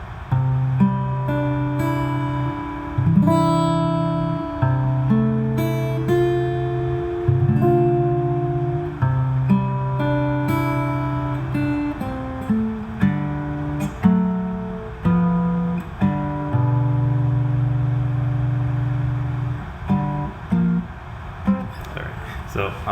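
Guitar plays a melody from Pokémon slowly, with a sustained low bass line under a plucked tune of ringing notes, close and steady for the whole stretch with no talking.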